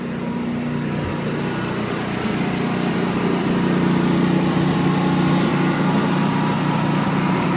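A 20 kW Briggs & Stratton whole-house generator idles without load nearby, running steadily with a constant droning hum, slightly uneven, with no voices.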